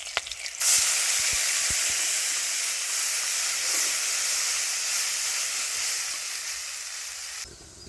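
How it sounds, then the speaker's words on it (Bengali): Water hits hot oil with green chillies in a kadai, bursting into a loud, steady hiss and sizzle that holds for several seconds before cutting off abruptly. "কড়াইতে একটু তেল গরম করে দিয়ে দিলাম কাঁচা লঙ্কা কেটে, এবার জল দিয়ে দেবো"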